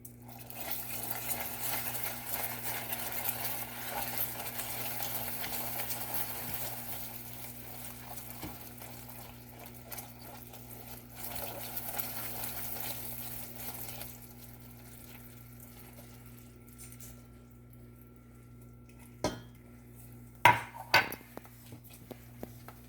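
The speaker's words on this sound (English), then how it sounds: "Got a heavy cream, we're gonna pour and stir." Heavy cream being stirred into melted butter in a pot for a Kentucky pound cake: a steady, soft liquid swishing and patter, then a few sharp clinks near the end, with no talking.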